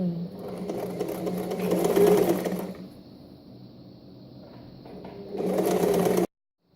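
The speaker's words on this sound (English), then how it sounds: "So yeah, back stitch and start sewing." A sewing machine stitching the elastic casing of a reversible satin bonnet: a close, steady motor whir runs for about two seconds, drops to a quieter lull, then resumes at full speed before cutting off abruptly.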